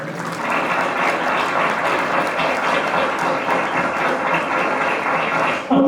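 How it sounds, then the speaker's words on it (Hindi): Audience clapping at an Engineers Day play at the Harduaganj power house, a dense, sustained round of applause from a crowd that holds steady for several seconds before abruptly ending. "बजाइए जोरदार तालियां"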